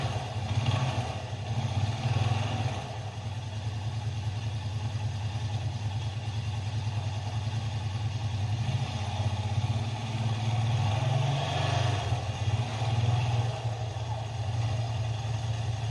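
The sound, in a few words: Honda TRX500 Rubicon ATV engine running in neutral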